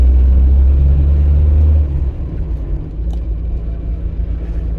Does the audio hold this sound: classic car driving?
yes